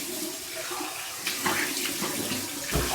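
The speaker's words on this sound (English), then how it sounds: "Here's my cold water rinse." A bathroom tap runs cold water for a morning face rinse. The stream is steady and close, and splashes from hands scooping water onto the face rise and fall over it.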